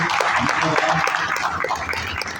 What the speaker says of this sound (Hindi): सबसे पहले हमारे जो कोच आए हैं इनके लिए भी जोरदार तालियां